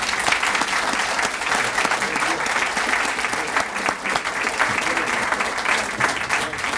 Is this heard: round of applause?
yes